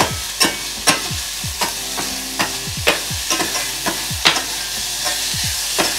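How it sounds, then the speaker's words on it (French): Onions sweating in hot oil in a pan for a clementine chutney, a soft steady sizzle broken by repeated scraping stirs of a utensil against the pan, close and with no voices. "notre huile est assez chaude. On va venir rajouter nos oignons. Et on va venir les faire suer."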